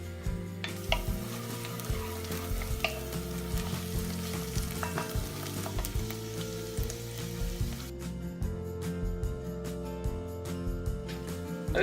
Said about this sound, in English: we're going to leave those onions cook now for about 10 minutes, and they'll go nice and brown